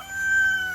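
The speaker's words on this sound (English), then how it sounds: "It's the rooster checking us out." A rooster crows nearby on a farm, a short sustained call heard in a brief snippet against a steady background hum.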